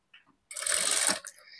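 A sewing machine stitches frills onto the bottom section of a girl's layered frock, a short whirring burst of rapid stitching up close after a few faint clicks, then quieter mechanical ticking.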